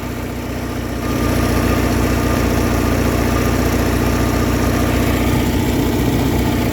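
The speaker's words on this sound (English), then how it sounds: "you can see where I got the idle at" An Alfa Romeo engine fitted with a Chinese Weber 32/36 carburetor idles loudly and close by, settling into an even, steady rumble after a brief quieter start.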